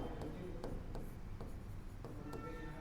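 Pen scratching across paper as notes are written by hand during a soil erosion lesson, a steady scribbling with repeated short strokes under a constant hum of room noise, no speech.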